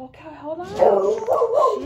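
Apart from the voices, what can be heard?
dog barking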